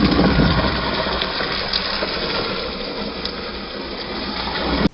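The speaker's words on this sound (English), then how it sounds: "and then we're going to add some water" Water pours steadily into a bucket of dry wild clay pieces, a continuous rushing gush from start to finish that cuts off abruptly at the end.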